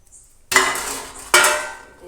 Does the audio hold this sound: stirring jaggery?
yes